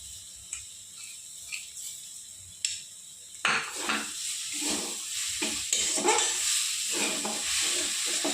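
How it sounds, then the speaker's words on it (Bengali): Red amaranth greens fry in a pan: a few sharp utensil clinks against the pan come first, then a steady sizzle begins with repeated stirring scrapes and knocks. "আমার শাক ভাজা ভাজা হয়ে গেছে আর একটু ভাজা ভাজা করে আমি নামিয়ে দেবো"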